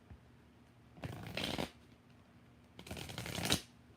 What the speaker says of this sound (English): I don't even know why I'm shuffling,